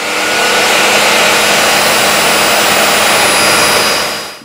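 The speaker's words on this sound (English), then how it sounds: "I'm going to do it on the miter saw." A miter saw cuts through a board clamped to the fence, a loud continuous high-pitched whine and roar that holds steady for several seconds before tapering off at the end.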